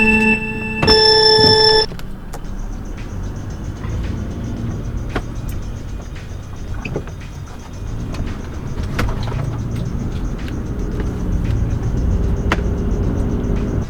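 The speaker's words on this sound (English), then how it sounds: "the truck is still moving under its own power" A failing truck limited to first gear crawls along at low speed, its engine and road noise a steady drone, opened by a brief electronic beeping tone.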